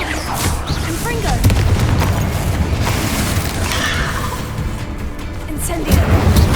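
In Hogwarts Legacy, the Confringo explosive spell goes off as a deep boom amid crashing, cracking combat effects, and a voice is heard in the middle of the battle.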